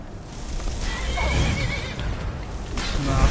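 A horse in Skyrim whinnies loudly and close by, a long wavering neigh over rumbling game effects, with a second whinny rising near the end.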